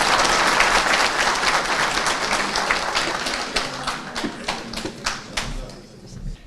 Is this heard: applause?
yes